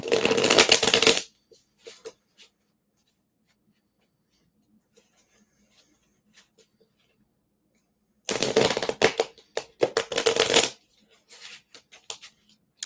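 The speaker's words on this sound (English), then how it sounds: "I'm going to go ahead and start shuffling for you now, Julia." Two bursts of tarot cards being shuffled close up, a quick riffling flutter, separated by a long quiet stretch with faint handling sounds.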